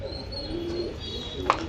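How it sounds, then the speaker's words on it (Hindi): Pigeons give soft, low cooing calls close by, with a brief sharper chirp near the end over a faint steady background hum. "बाहर आते ही सारे कबूतर आ गए"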